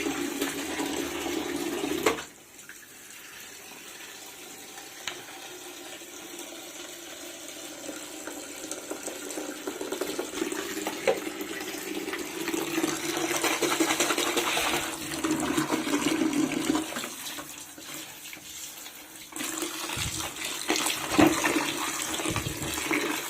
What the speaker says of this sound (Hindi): वाइज़र ये सब निकाल के मैंने धोया।